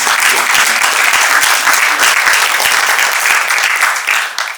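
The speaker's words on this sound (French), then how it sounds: "je merci d'applaudir" Lecture audience applauding, a loud, dense, sustained wash of clapping from many hands that holds steady and begins to thin at the end.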